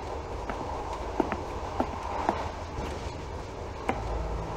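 Moving train in the game The Last Express, a steady low rumble of rolling carriages with faint rhythmic clacks of wheels over rail joints, heard close and continuous without any talking.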